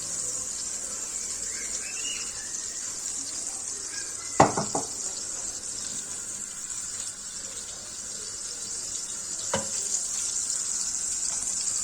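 Rice being roasted in a pan with butter and sunflower oil gives a steady, soft sizzle and hiss throughout. Two brief louder scrapes or clinks of a utensil stir it, one near the start and another later.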